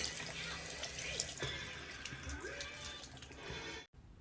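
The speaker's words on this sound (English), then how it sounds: "I've like been rinsing them and it's still, wow, lots of dirt." Running tap water splashes over dirty gear being rinsed in a motel sink during an Appalachian Trail thru-hike in Massachusetts, a steady close wash of water with small drips, and no talk.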